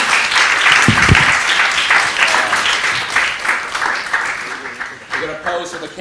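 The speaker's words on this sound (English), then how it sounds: "I'd just like everybody to give a round of applause to these guys over here." A conference audience at a social enterprise summit applauds loudly and continuously for several seconds, with voices heard faintly beneath the clapping as it tapers.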